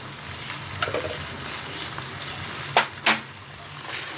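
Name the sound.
spices frying and being stirred in a pan for chicken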